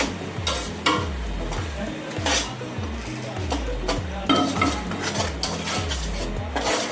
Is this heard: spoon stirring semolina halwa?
yes